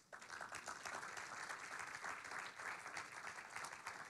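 A church congregation breaks into dense, continuous applause, a sustained wash of many hands clapping at once, faint and somewhat distant.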